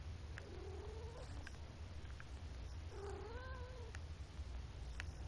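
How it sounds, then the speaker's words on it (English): A house cat meows twice, a drawn-out wavering cry and then a longer rising-and-falling one, fairly faint over a constant low hum indoors, with a few soft clicks between. "It's my cat just checking up on me again."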